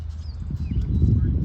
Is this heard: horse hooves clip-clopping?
yes